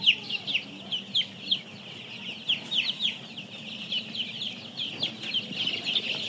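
Tiger chicken (CPF3) chicks in a brooding pen peep and cluck in quick, repeated high chirps, close and lively, over a faint low background hum.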